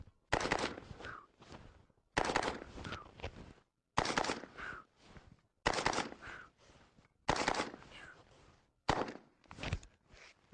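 An AR-15 rifle fires 30 rounds in close-quarters drills, sharp shots grouped into six quick bursts of several rounds each with brief pauses between, loud and close with no talking.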